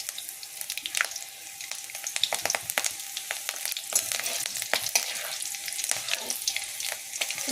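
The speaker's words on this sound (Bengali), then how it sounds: "তেলটা গরম হয়ে গেলে এর মধ্যে কালো জিরে আর কাঁচা লঙ্কা" Black cumin seeds and green chillies crackle in hot oil, giving a close, steady sizzle full of sharp pops and spits that carry on without a break.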